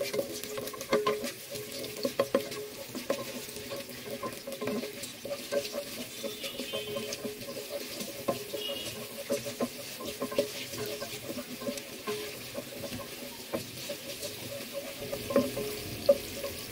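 Dried spices and onion fry in a pan beside a little pointed gourd curry, giving a soft crackling sizzle with bursts of stirring and clatter, fairly close and without talk.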